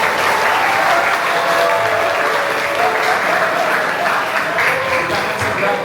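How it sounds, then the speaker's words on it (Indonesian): Loud, sustained applause from an audience at a school event welcoming a church ministry team from Jakarta, a dense, close, even patter of many hands with faint voices mixed in. "Ayo kita beri tepuk tangan dulu untuk itu."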